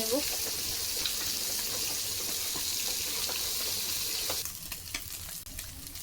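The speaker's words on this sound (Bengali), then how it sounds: "আলুগুলো আমি লাল লাল করে ভেজে" Potatoes fry in oil with a steady, close, bright sizzle for most of the clip; the sizzle drops away near the end and leaves scattered clinks and stirring sounds.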